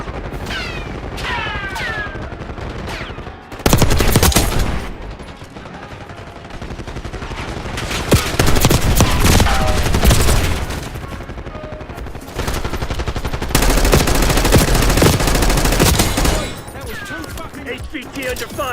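Video game gunfire in heavy bursts, with rapid automatic fire and loud fusillades alternating with quieter stretches, all dense and close, with game voices mixed in.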